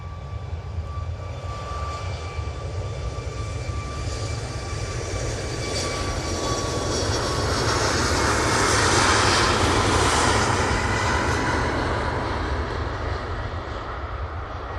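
A KLM airliner takes off at Manchester Airport, a broad, sustained engine roar with a faint whine that swells toward the middle of the run and then eases, continuous and without voices.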